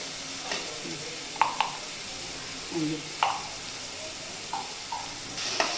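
Brinjal and tomato masala sautéing in a pan, a soft steady sizzle with occasional scrapes and stirring knocks from a spoon, heard close.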